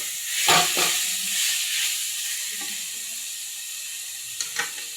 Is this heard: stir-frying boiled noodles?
yes